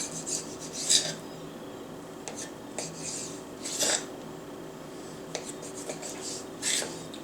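A knife slicing raw salmon into small pieces for tartare, giving short rasping cuts in irregular bursts, close and fairly quiet, with no talking.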